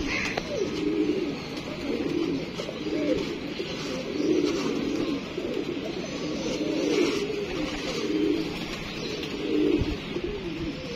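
Pigeons cooing steadily in repeated soft, low calls, close by, over a constant background hum with no talk.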